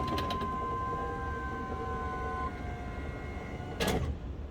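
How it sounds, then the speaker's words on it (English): Power window rolling down in the door of an 82-92 Camaro: a steady motor whine with tonal hum over several seconds, ending in a brief clunk as the glass stops. "Lastly, roll the window down so you can reinstall your inner door panel."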